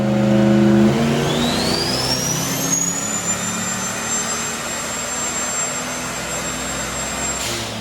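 A turbocharged Dodge Diplomat engine revs on a dyno, its pitch sweeping up into a sustained high-speed drone with a rising turbo whine that holds steady before cutting off near the end, loud and close.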